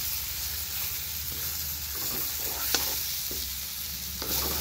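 Dried fish (shutki) with turmeric, chilli powder and salt fries in a pan, giving a steady close sizzle with stirring scrapes, and a sharp spoon knock stands out near the middle.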